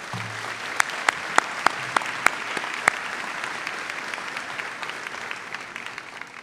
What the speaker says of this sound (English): How about a big round of applause for your guests and loved ones?